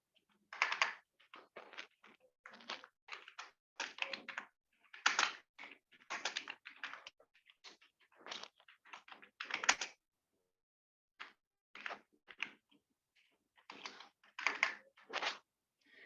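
Program code typed on a computer keyboard, rapid bursts of close key clicks in irregular runs separated by short pauses, quiet and alone without talk.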